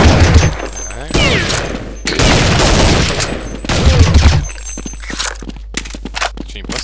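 Gunfire in a PvP shooter video game comes in dense bursts of rapid automatic shots and loud cracks that cut in and out, followed by scattered single shots and footsteps, with a player's voice heard faintly at times.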